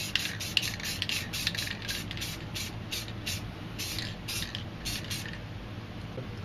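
Black spray paint hisses from an aerosol can in short, quick bursts with brief gaps, close and fairly loud, as a graffiti piece is filled in along a straight edge.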